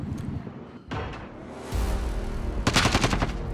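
Sniper rifle fire in a first-person shooter video game: a few sharp, loud broadband shots and bursts stacked over busy game ambience, with a dense run of rapid cracks toward the end.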